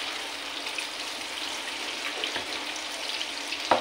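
Pork pieces fry in melted butter in a pan for adobo, a steady soft sizzle and crackle running throughout at moderate distance, with a brief clatter near the end.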